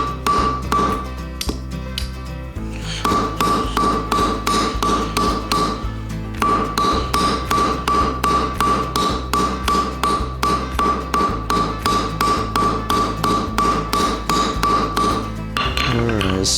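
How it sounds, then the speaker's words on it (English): A hammer strikes a cold rivet on a handmade hinge, a long run of rapid, evenly spaced metallic taps with a ringing ping, close and steady, pausing briefly now and then. "I'm gonna try and cold rivet this and see if that works."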